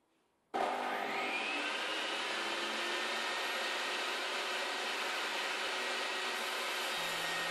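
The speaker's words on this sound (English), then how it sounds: "With a good vacuum cleaner attached to it, it catches pretty much all the dust." A vacuum cleaner hooked up as dust extraction on a Makita 2704 table saw switches on abruptly and keeps up a loud, steady broadband roar for the rest of the clip, with no talking.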